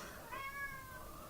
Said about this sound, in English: And that is my cat, Leo